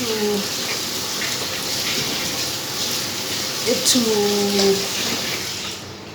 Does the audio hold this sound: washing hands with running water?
yes